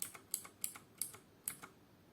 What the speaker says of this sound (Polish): Porównanie kliku przełączników niebieskich,